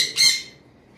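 A cockatiel lets out a single sharp, shrill squawk up close, brief and loud before fading into quiet.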